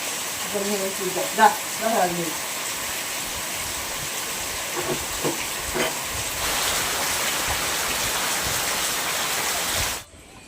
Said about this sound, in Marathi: पाऊस आहे ना बाहेर.